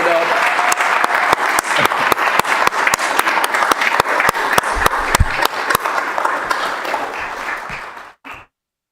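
City council meeting audience giving a round of applause, loud and sustained clapping from a roomful of people for about eight seconds, with a few sharp individual claps standing out, then stopping abruptly.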